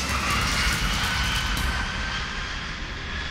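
An Airbus A380 passenger plane landing gives a broad, steady roar of engines and rushing air that stays loud and then eases slightly, with no voices.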